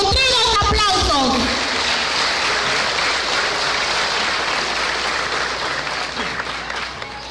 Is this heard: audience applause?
yes